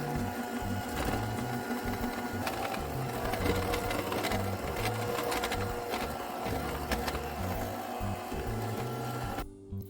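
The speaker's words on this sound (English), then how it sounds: "And now I'm going to add my dry ingredients to my wet ingredients. And I'm going to mix this together." An electric mixer beats pumpkin chocolate chip cookie dough, whirring with a continuous buzzing motor and a rhythmic chugging as the beaters work the thick dough, then cutting off abruptly at the end.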